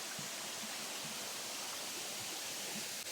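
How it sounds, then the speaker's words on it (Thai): Water flowing steadily from a waterfall through a stream in old-growth jungle forest, a continuous broadband rush that stays even and close throughout with no voices. "ตรงนี้น่าก็จะเป็นทานน้ำที่ไหลมาจากน้ำตกนะครับ"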